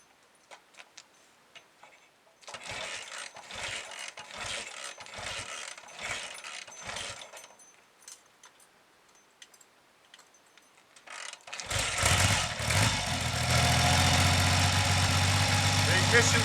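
A Triumph Trident motorcycle on points ignition with new exhaust pipes gives a run of evenly spaced mechanical clicks, then fires up and settles into a loud, steady running roar.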